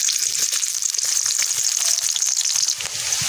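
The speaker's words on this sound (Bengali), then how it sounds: "পেঁয়াজগুলো হালকা ভেজে একটু নরম করে নিলাম" Chopped onions sizzling in half a cup of white oil in a wok, a loud, steady, close frying hiss throughout with no talk.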